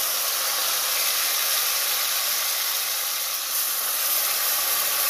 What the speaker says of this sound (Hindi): मैंने इसमें लहसुन अदरक पेस्ट शामिल कर देना है।